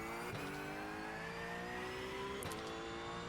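A Porsche GT3 race car engine in the iRacing sim, droning steadily at high revs with a rising pitch, quick gearshift blips at two points, heard alone without talk.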